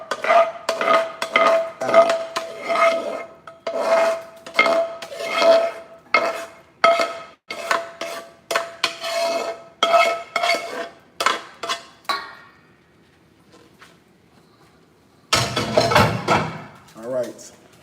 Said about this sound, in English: But we need to scrape this down so we get all of it out.